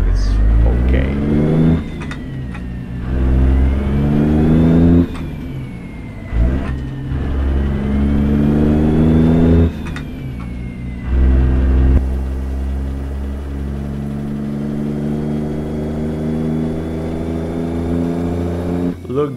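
A Peterbilt truck with a Cummins Signature 600 engine, hauling 122,000 pounds in a driving game, pulls away in first gear, its loud engine climbing through repeated rising revs with brief pauses between them, then holding a steadier drone.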